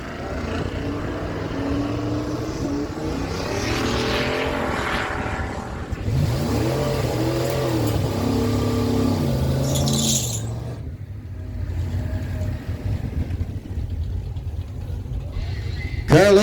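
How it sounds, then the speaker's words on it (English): Drag race between an 87 Ford Ranger and a 79 Chevrolet Camaro at a dragway, engines roaring loudly and rising in pitch as they launch and pull away, with a track announcer talking over the noise. "87 Ford Ranger out of Baxter's Corner on the left side of the track, 1088 dial. On the right side, 1343 dial on Carol Lehman's 79 Chevrolet Camaro."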